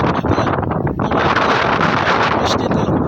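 Strong storm wind with rain beats hard against the microphone in a dense, continuous roar that stays loud and buffeting throughout.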